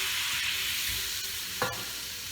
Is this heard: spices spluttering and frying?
yes